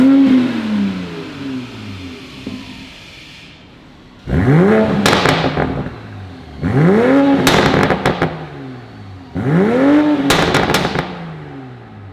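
A Toyota MK5 Supra with an AWE Resonated Touring exhaust cold-starts loudly, settles into a low idle, then gives three sharp, close revs that climb and fall back, separated by brief idle pauses.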